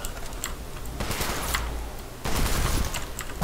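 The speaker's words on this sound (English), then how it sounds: "It's like a shotgun" Shotgun blasts in Call of Duty: World at War Zombies, two heavy booming shots roughly a second apart over a noisy game background with faint clicking.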